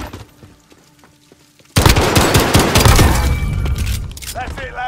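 Sudden loud burst of video game gunfire in a tournament gunfight, rapid overlapping automatic shots and booms running continuously after a quieter opening with voice.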